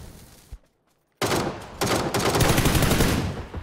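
Assault rifle fire in PUBG on console, a short burst, a brief silence, then a loud sustained volley of rapid shots close by.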